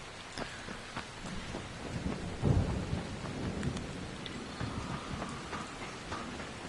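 Video game rain in Dying Light hisses throughout, with a low rumble of thunder swelling briefly midway; a continuous, close wash of falling water.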